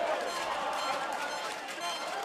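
A crowd at an Australian Baseball League game between Perth Heat and Adelaide Giants keeps roaring after a walk-off hit. The broad, sustained cheer sits under a commentator's voice.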